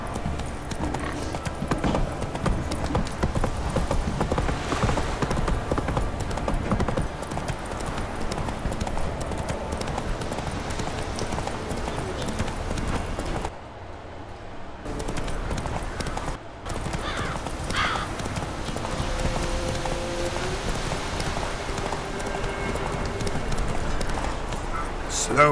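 Roach the horse gallops in The Witcher 3, with steady rapid clip-clop hoofbeats running nearly throughout, an occasional whinny, and a brief dropout midway; someone speaks over the hooves at times.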